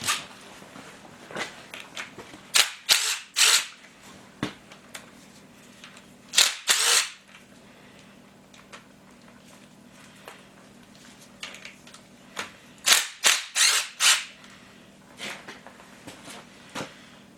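Bolts being removed from the front plate of a Willys F-head engine in a garage, heard as sharp, clustered ratchet or impact bursts separated by quiet pauses, with little talk.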